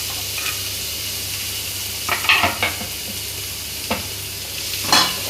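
Tomato goes into a hot pan of sizzling paste for chicken dum biryani, a steady frying hiss broken by a few sharp stirring scrapes and clinks of a spoon against the pan.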